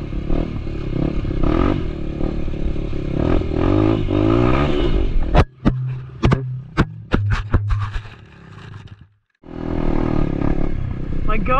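A Honda CRF150F dirt bike ridden on trails at around 30 miles an hour, its engine droning close up, then a burst of sharp clattering knocks and scrapes, a brief drop-out and the engine returning.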